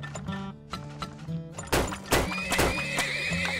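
A horse in the video game Turmoil neighs amid clunking game sounds: a whinny-like call, then several sharp thuds and a rising squeal, all fairly loud.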